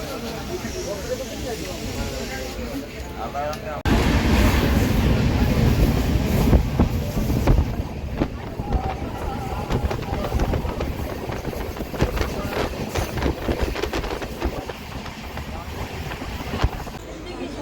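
A train rumbles along the rails near Sathirakudi station in Tamil Nadu, steady and loud, with rhythmic clacking and wind buffeting; it grows louder a few seconds in.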